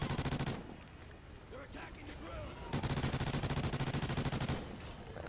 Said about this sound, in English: let's see if we can call one of these mortar strikes and see what it does here